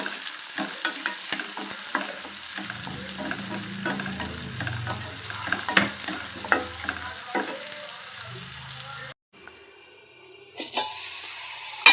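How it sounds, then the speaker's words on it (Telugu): Onions and green chillies sizzle in a hot pan for potato fry, a steady crackling fry with repeated stirring scrapes and clinks. The sizzle cuts briefly near the end before resuming, with no talking. "ఆనియన్స్ పచ్చిమిర్చి ఆల్మోస్ట్ వేగిపోయాయి"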